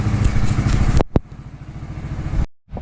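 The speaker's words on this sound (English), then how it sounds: "Now we'll start the tractor." A tractor engine cranks and catches after a snowstorm, loud rough mechanical churning that stops abruptly, gives a sharp clank, chugs again, then cuts out briefly.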